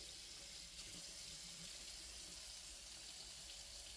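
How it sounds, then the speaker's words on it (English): Tap water runs steadily over a cleaver made from a rasp as it is rinsed, a constant close hiss and splash of the faucet with no talk. "I'm hoping just to get it with running water"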